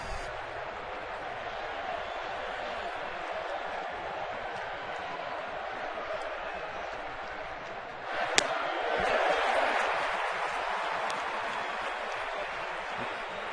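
A baseball stadium crowd at a 2010 Texas Rangers ALCS game against the Yankees keeps up a steady, distant roar of cheering, then swells with a burst of applause about two-thirds of the way through.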